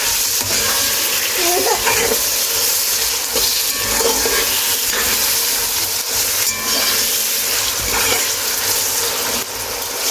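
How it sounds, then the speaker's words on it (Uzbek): Meat and onions fry with soy sauce in a pan for lagman, a loud, continuous sizzle broken by repeated stirring scrapes and clinks; no voices. "go'sht bilan birga qovurdim. Mana endi piyozimni soldim qizlar. Hammasini yana bitta qovuramiz."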